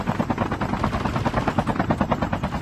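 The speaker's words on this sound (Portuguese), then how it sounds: "Vamos na direção desse helicóptero, então." A helicopter's rotor thumps with a steady, fast chop in a multiplayer shooter video game, moderately loud and continuous with no voices over it.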